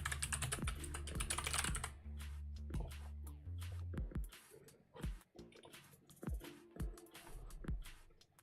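Rapid clicking keystrokes on a computer keyboard, close and fairly quiet, with dense bursts of typing broken by short pauses.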